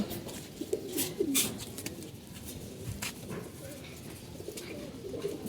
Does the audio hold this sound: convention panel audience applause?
no